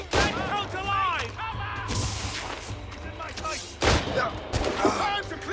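A naval battle in Assassin's Creed Rogue, with cannon and gun fire cracking and booming in irregular bursts over a constant roar of battle, while crew members shout over the din.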